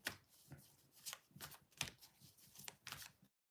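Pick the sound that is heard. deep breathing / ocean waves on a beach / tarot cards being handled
tarot cards being handled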